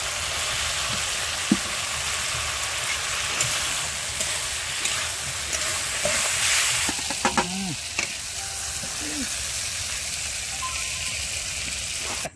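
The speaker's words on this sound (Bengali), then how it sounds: "তো এই যে হাতে গোনা করে কটা মাছ এখন অ্যাড করে দিলাম" Koi fish (climbing perch) caught from a wetland, frying in well-cooked spiced oil in a pan: a loud, steady sizzle throughout, with a few brief stirring clatters and clinks partway through.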